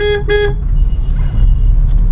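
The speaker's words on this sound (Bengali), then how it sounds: "এখানে একটু হর্ন দিচ্ছি, কোনো অপশান নেই আমার হাতে" A car horn gives two short toots in a congested traffic jam, followed by a low, steady rumble of engines and road noise.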